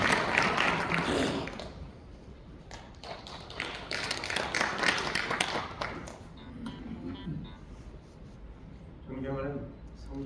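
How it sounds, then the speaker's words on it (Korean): Audience applause fills a church hall at a ceremony and worship service marking the 106th anniversary of the March 1st Independence Movement. It is a broad burst at the start, then scattered taps and thumps follow, and a voice speaks near the end. "나오시길 박수 부탁드리겠습니다."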